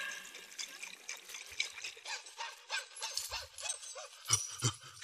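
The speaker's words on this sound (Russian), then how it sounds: "Так, нальем теперь в бутылку воды. Так, всыпем туда порошок. Так, взболтаем хорошенько." Water being shaken hard in a bottle with sleeping powder stirred in, a fast, close, sloshing rattle of repeated liquid splashes, with a few low thumps toward the end.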